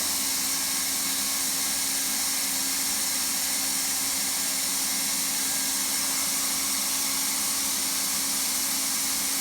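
A hot air welding gun melts a rod into the seam of vinyl sheet flooring, a steady loud hiss and whir that stays constant and close with no change or talking.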